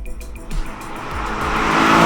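Mercedes-AMG C63 Black Series on the move, engine note rising steadily and growing louder as the car accelerates, with a hint of tyre noise and no talking.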